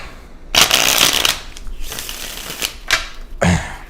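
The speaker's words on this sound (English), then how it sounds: "let's get a shuffle in real quick" Tarot cards being shuffled up close, with loud riffling bursts separated by softer handling rustles, and no voices.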